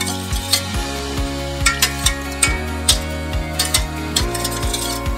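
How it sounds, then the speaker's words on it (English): A whisk clicks rhythmically against the bowl while milk and yogurt are beaten smooth for homemade yogurt, a fast, steady series of close metallic taps over a faint hum, with no talking. "I'm using a whisk now to make sure that I get rid of all the chunks"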